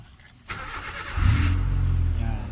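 A Honda Civic LXi engine starts: a short starter crank, then the engine catches and settles into a steady low idle, close and fairly loud with no talking.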